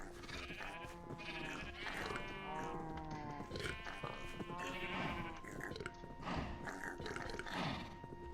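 Cows in Minecraft's TerraFirmaPunk modpack low and moo repeatedly, several overlapping calls rising and falling across the clip at steady loudness, with no talking.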